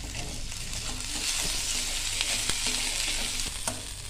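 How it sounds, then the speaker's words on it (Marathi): Garlic cloves and chopped ginger hit onions frying in a pan, raising a close, continuous sizzle broken by sharp spoon scrapes and taps from stirring, with no talk. "कांदा टाकल्यानंतर त्याच्यात लगेच लसूण टाकून घ्यायचा आहे।"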